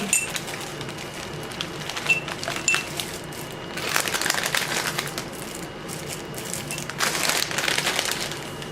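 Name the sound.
candies being poured into a mason jar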